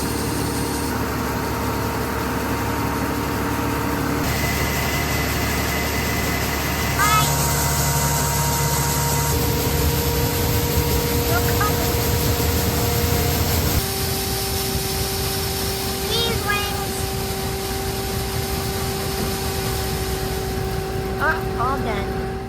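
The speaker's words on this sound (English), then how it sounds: "They were a little worried about the auger working after they got it repaired, but it worked like a charm." A repaired grain auger unloading corn runs with a steady mechanical drone. Tones and pitch shift partway through, and a few faint clicks sound over the continuous machine noise.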